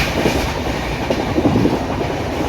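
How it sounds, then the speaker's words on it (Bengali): The Azad Hind Express rolls steadily along the rails at speed, a loud, continuous rumble with rhythmic wheel clatter heard from on board, with no talk. "ট্রেন 130-এ চলছে।"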